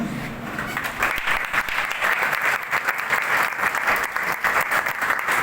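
A school audience stands and applauds at a reunion event, a dense, steady roar of clapping from many hands that fills the whole stretch without pause.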